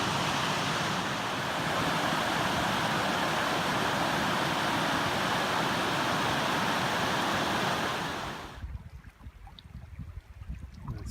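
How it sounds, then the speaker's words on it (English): Kings Creek rushes along as a constant broad wash of flowing water for about eight seconds, then drops abruptly to a quieter, more distant trickle. "You can hear that water flowing."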